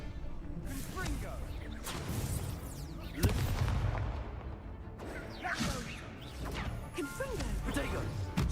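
Fiery Confringo spell blasts in a Hogwarts wizarding video game, several sharp whooshing bursts and crashes spread across the stretch, with a voice talking over the action.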